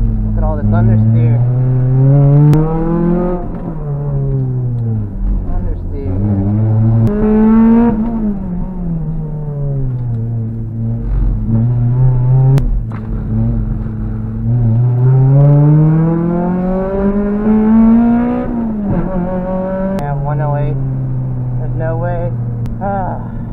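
A 2ZZ-engined MR2 Spyder laps a wet track in the rain, its engine loud and close as it revs up and down through repeated gear changes, climbing and falling in pitch for the whole stretch.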